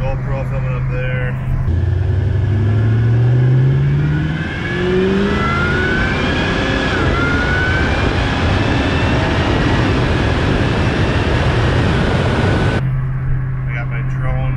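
A 1969 Camaro driving, its engine roaring loudly and continuously with rising revs through gear changes, wind and road noise filling the sound for most of the stretch.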